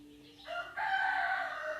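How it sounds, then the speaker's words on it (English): A rooster crows nearby, one loud drawn-out call that rises and holds, clear over a faint background. "I'm sorry for the background noise, guys. The rooster."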